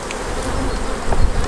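Honey bees swarm around an open hive, filling the air with a dense, continuous buzzing hum that is loud and close, with individual insects droning nearby.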